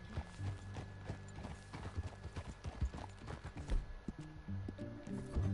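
A horse gallops in the Red Dead Redemption 2 video game, with rapid hoofbeats clip-clopping over a low ambient bed and a brief whinny-like tone in places.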